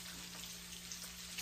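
Bacon from a thawed pack frying in a pan at home, a steady soft crackling sizzle with a low constant hum underneath, fairly quiet and continuous with no voices.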